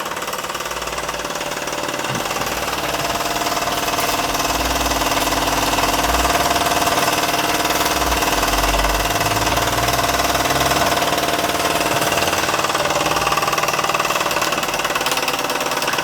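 A Mamod SP2 model steam engine runs steadily with a smooth, continuous mechanical hum and faint rhythmic ticking, unchanging and close.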